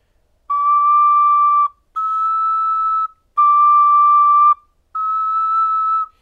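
A double ocarina plays four long, steady, pure notes separated by short gaps, switching between its chambers. The tones are clear and close, and no voices are heard.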